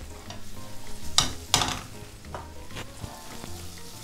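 Chopped red pepper dropped into a hot pan with garlic and crushed chili for a prawn linguine, a soft steady sizzle with a couple of louder spatula scrapes and stirring sounds, close up and without speech.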